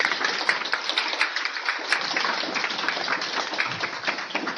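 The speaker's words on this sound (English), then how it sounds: "Maybe we could have a round of applause for everybody who attended." A room of attendees at a university open-source discussion event gives a steady round of applause, dense clapping sustained throughout at moderate loudness with no speech over it.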